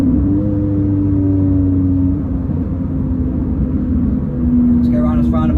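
A Renault Clio fitted with a rear K-brace rolls around a roundabout, its engine a steady low drone with a sustained hum and a brief rise near the end, heard from inside the car.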